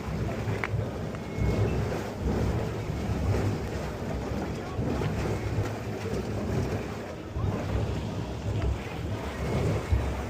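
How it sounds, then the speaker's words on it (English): Swollen Elouette River rushing after heavy rain, a broad, steady roar of churning water close by, loud and continuous with low rumble throughout. "the water has filled up in the Elouette River"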